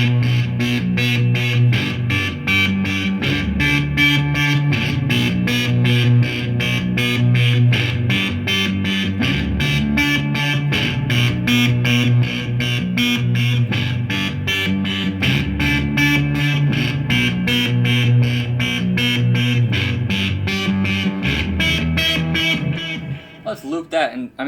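Boss guitar synth driven by a sequencer and combined with fuzz, a loud, dense, distorted buzzing line with steady rapid pulsing and thick low tones, running continuously before cutting out at the end.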